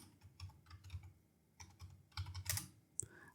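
A search term typed on a computer keyboard while editing a website theme's HTML, a quick run of close, soft key taps in uneven bursts with a couple of sharper strokes near the end, no voices.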